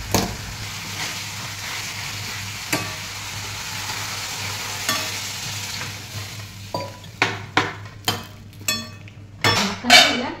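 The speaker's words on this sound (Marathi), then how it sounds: "तेलामध्ये कधी असं 2-3 मिनिट परतून घ्यायचं." Food sautéing in hot oil in a pan: a steady close sizzle throughout, joined by repeated sharp metal spoon scrapes and taps against the pan, growing more frequent toward the end.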